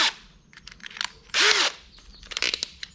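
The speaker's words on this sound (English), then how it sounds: "I'm just gonna try drill and tap it to 1/4 inch." A power drill whirs in a short loud burst, boring a hole into metal to be tapped to 1/4 inch, with smaller clicks and handling noises before and after.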